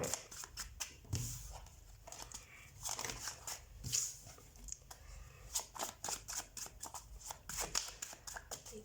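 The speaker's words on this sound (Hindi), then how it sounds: "मुझे कार्ड शफल करने दीजिए" Tarot cards being shuffled by hand, a series of close, quick riffling and slapping bursts in an irregular rhythm, no speech.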